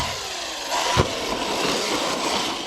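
Small 68 mm engine of a Kyosho MP9 EVO nitro RC car being revved on a track, a buzzing whine that swells sharply about a second in, then holds a steady raspy drone.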